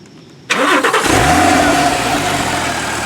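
A 2009 Porsche 997.2 Carrera 4S with a rear-mounted 385 hp six-cylinder engine cranks and fires up abruptly after near silence, then settles into a loud, steady idle close by with no talking.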